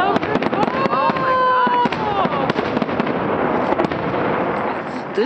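Grand finale of a fireworks show in Butte, Montana: rapid, overlapping booms and crackles with whistling rockets rising, loud and continuous, with people's voices mixed in.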